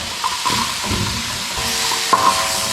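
Vegetables stir-fried in a pan for chicken tikka macaroni, a loud continuous sizzle under repeated scraping and stirring strokes, close up, with a sharper clink of utensil against pan near the end.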